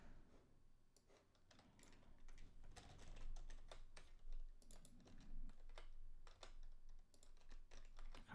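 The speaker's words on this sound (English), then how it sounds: "God damn it, this keyboard's annoying." An old computer keyboard being typed on, with irregular bursts of sharp key clicks and clacks over a low background hum and no talking.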